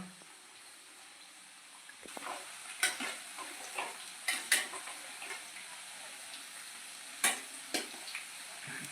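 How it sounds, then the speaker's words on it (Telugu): Small chicken pieces in a hot pan, with a continuous sizzle of frying broken by repeated scraping stirs at irregular intervals, close and moderately loud, no talking. "అవి వేసిన మళ్ళీ కొంచెం అటు ఇటు తిప్పాలి చికెన్ని."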